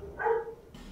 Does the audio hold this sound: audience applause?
no